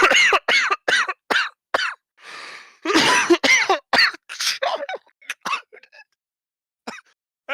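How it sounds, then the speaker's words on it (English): A person coughs repeatedly in a harsh, close fit of bursts, with a throat-clearing rasp partway through, the coughs thinning out and trailing into near silence near the end. "I'm really coughing"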